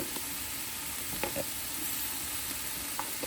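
Onions, celery and minced garlic sizzling in a soup pot, a steady close frying hiss with faint stirring clicks, and no talking.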